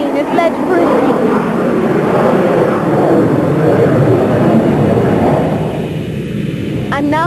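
Jet aircraft engines roar steadily at Heathrow Airport, a broad loud rumble dominating throughout with a brief high whine near the end.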